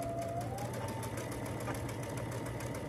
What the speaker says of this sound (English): fold it over to the other one, and sew down that seam